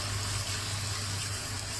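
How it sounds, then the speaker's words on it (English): Water poured into a pan holding fried fish to make broth: a steady, rushing splash and gush over a low hum, continuous and close, with no voices. "We're going to add some water."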